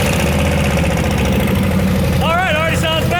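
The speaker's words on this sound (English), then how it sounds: "Dan, shall we do a mandatory no muffler fire up?" A Harley M8 Softail with its mufflers removed runs loud and close, with a deep, thumping idle rhythm. A voice joins in near the end.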